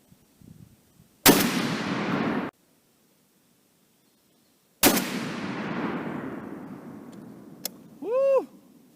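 Two very loud, sharp .50 BMG shots from a Barrett M82A1 rifle fired at a steel target outdoors, each with a long rolling echo, followed by a metallic clink.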